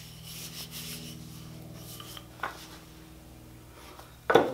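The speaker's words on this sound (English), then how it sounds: "I'll probably need to sand down the ends just a little bit from where I couldn't get to it on the lathe." Hand sanding on the ends of a wooden firewood mallet turned on a treadle lathe gives soft, brief rubbing strokes with a couple of sharper scrapes and knocks, close and quiet, with no talk.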